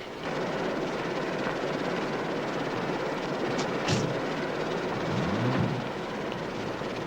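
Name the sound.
helicopter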